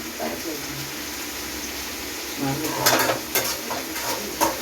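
Spices temper in sizzling hot oil in a pan while a spoon stirs and scrapes, with a few louder crackling bursts near the end.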